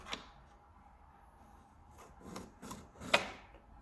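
A wooden flooring piece is set into place during a floor and stair install, heard as a few soft, quiet scrapes and light knocks, with one slightly sharper tap near the end.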